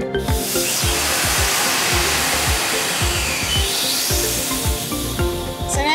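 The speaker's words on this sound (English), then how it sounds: "Here they are, blowing my ballast tanks." Compressed air blows a submarine's ballast tanks, a loud, steady rushing hiss close by with repeated mechanical clunks and rattles running throughout.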